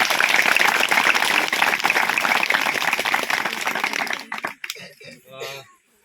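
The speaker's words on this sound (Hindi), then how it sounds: "एक बार जोरदार तालियों के साथ इनका स्वागत करते हैं" Loud, dense applause from a large audience rings out for several seconds, then fades away as a voice begins speaking.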